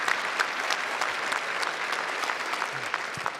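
Audience applause fills a gala hall for a panel on protecting women's sports, a dense steady wash of many hands clapping throughout, loud and continuous with no talk over it.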